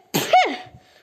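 A single close, sharp sneeze from a woman: a quick inhale burst followed by a strong explosive release, fading within a second with nobody talking.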